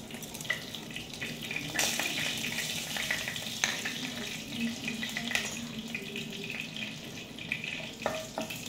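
Dried red chillies and black cumin (kalo jeere) fry in hot oil as a tempering for a fish curry, giving a continuous close hiss and crackle with a few brief bumps and clicks, no voices.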